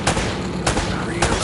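Gunfire in the Uncharted: Drake's Fortune video game, a dense rattling burst of shots with three sharper loud cracks spaced across the moment over continuous clatter.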